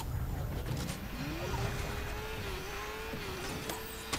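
A motorcycle in Fortnite, its engine humming steadily at moderate volume with a rising then level pitch over a noisy background, with faint voices in places.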